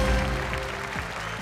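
Studio audience applause on a Bhojpuri television game show rolls in as a steady wash of clapping under a sustained musical tone, with brief rising stings cutting through.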